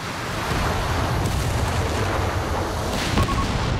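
Artillery in a Company of Heroes 3 battle rumbles as a dense, continuous roar of distant blasts, with a few sharper impacts standing out near the end.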